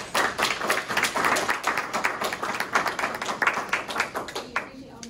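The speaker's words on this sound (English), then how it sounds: "Once again, let's give them a round of applause." Audience applause for a community engagement panel, a dense wash of many hands clapping that holds steady for about five seconds and then begins to thin out at the end.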